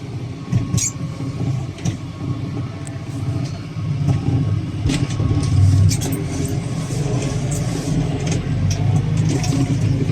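A heavy Manitou telehandler engine rumbles steadily at low pitch, rising and revving louder midway through while mucking out a straw pen, with faint clanks and knocks over the top.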